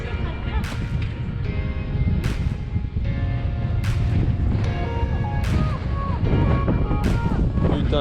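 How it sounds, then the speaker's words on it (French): Strong, continuous headwind roaring and buffeting the microphone while cycling on the Paris-London greenway between Forges-les-Eaux and Dieppe, loud and close, with intermittent sharp gusty bursts throughout. "Alors, on se prend un putain de vent de face."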